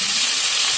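A tomato frying in a pan gives a steady, close sizzling hiss that holds at even loudness for a brief moment, with no voices over it.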